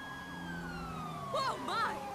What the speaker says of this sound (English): I can hear the sirens going.